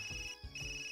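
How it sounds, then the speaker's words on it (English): A mobile phone ringtone in the fighting game Persona 4 Arena Ultimax chimes alone as a steady two-tone electronic melody over a low hum, with a brief dip midway. "suddenly my ringtone echoes out in this empty place."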